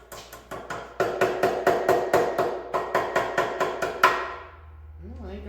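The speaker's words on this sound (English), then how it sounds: "I had a small hammer over here." A small hammer strikes a burred metal shaft in a shop, roughly a dozen sharp ringing blows in quick steady rhythm, close and loud, ending with a brief voice.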